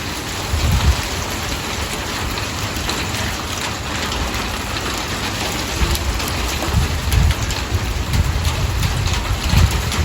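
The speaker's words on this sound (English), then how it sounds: "Oh, it's hailing. It is hailing." Hail and sleet fall steadily through a strong gusty winter storm with thunder in Albuquerque. The clatter and hiss carry loudly and continuously, with occasional heavier gusts and low rumbles underneath.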